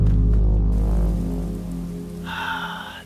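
Steady rain falls in Skyrim, a broad hiss under low droning ambience, thinning midway before a brighter tonal swell rises near the end.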